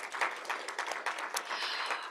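Applause for a poet at a National Poetry Month reading: a quiet, continuous patter of many hands clapping at middle distance, even in level from start to finish.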